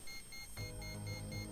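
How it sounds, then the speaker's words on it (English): An urgent cabin alarm in the game Punishing: Gray Raven beeps in a steady, repeating electronic pattern over a low droning rumble, with no talking. "Urgent alarms and an automated voice message follows suit."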